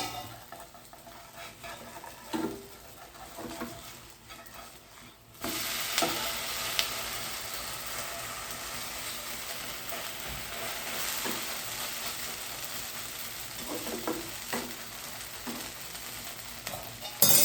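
Bottle gourd rosti fries in a non-stick pan with a soft sizzle that suddenly swells into a loud, steady hiss partway through, broken by occasional scrapes and stirring.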